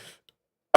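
A single sharp, loud cough bursts out close to the microphone after a brief near-silence, preceded by a faint trailing breath.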